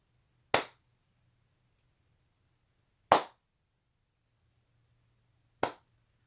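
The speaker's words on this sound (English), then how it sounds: "I got to give Pamela Hayden the 3 claps" Three sharp hand claps, evenly spaced about two and a half seconds apart, each crisp and isolated against near silence.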